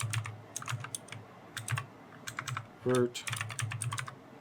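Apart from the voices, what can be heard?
typing on a computer keyboard to rename sketches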